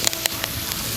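Curry leaves sizzle in hot frying oil in a home kitchen before fish is fried, giving a steady broadband hiss with a few sharp crackles and pops near the start, close and fairly loud with no talking.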